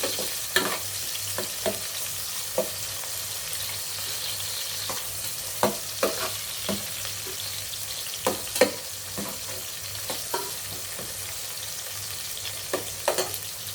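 A medium-sized onion frying in a pan with chillies for biryani, a continuous hiss of sizzling oil broken by scattered clicks and scrapes of a spatula being stirred through.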